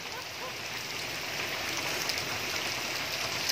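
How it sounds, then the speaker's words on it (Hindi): Steady rain falls in a broad, even hiss of drops on surfaces, close and constant across the few seconds with no voices over it. "बोलो कि बारिश हो रही है, ये देखो।"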